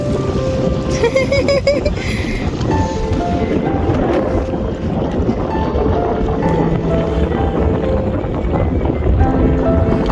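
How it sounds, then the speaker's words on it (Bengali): Strong sea wind on Saint Martin island buffets the microphone in a loud, continuous roar, with rumbling gusts and a faint wash of the sea beneath, unbroken for the whole stretch. "প্রচণ্ড বাতাস ছিল এই মুহূর্তে"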